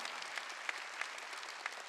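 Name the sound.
church congregation clapping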